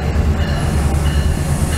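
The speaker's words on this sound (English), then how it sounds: "All right, here comes our train." A VRE commuter train rumbles loudly into a station with a steady roar of wheels and rail noise, close and continuous throughout.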